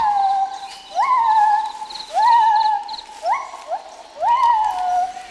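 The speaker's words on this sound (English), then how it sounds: "These mournful sounds are the songs of the gibbon" Rising, whooping hoots from a gibbon in Thailand repeat in a mournful series, each note sliding upward then wavering, loud and clear against a quiet background.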